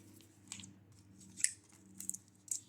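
Scissors snip through paper while a washi-sticker storage folder is made, several quiet crisp cuts at an uneven pace against a low hum.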